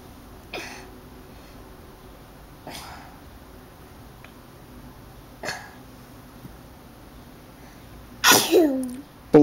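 One loud, close sneeze bursts out near the end of a quiet indoor stretch. Earlier, a few faint breaths and small knocks are heard while a child plays with toy diggers.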